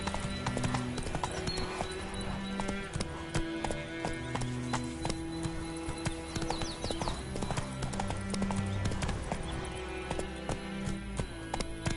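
The horse Roach clip-clops steadily along in The Witcher 3 video game, with continuous hoofbeats layered over soft in-game music and ambient sound.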